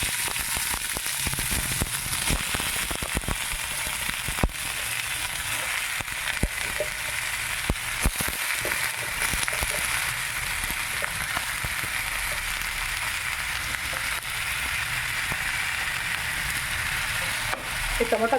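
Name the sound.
green tomatoes frying in a pan for chutney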